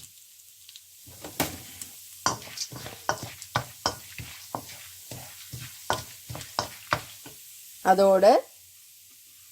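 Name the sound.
chana dal frying in a pan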